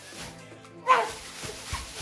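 A small dog gives one short, sharp yip near the middle, close by, with only faint, sparse household sounds around it.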